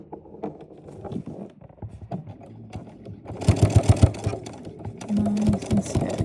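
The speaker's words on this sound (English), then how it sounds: "I'm just going to sew right along the edge of this binding" A sewing machine stitching along the binding edge of a quilted coat, a close rapid mechanical chatter coming in bursts with short pauses, preceded by quieter handling sounds.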